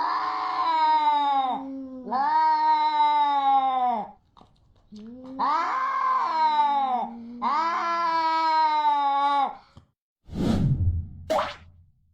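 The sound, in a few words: cat screaming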